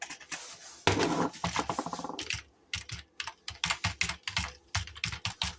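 Someone types on a computer keyboard nearby, first a quick run of clattering keystrokes, then separate clicks and short bursts in an uneven rhythm, with no voices.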